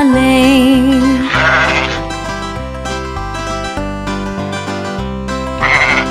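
Sheep bleating within a children's nursery rhyme song about a black sheep, with repeated loud sung or voiced bleats over bouncy musical accompaniment.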